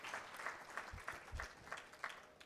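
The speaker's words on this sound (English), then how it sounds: "As they walk back, please give them, both of them, a lovely round of applause." Faint, thin applause from a small audience, with individual claps pulsing in a loose rhythm for a couple of seconds, distant and quiet.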